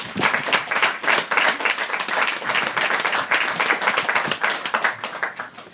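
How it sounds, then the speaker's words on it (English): A crowd applauds steadily throughout at an Army change-of-responsibility ceremony at Fort Gordon, dense overlapping hand claps holding close and loud before easing slightly at the end. "can you please join me in a round of applause?"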